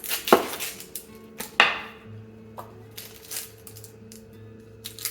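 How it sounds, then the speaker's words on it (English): A knife chops onion on a small plastic cutting board, with a few sharp, close knocks spaced irregularly and soft scrapes between them, over a faint low hum. "When I'm cutting onions."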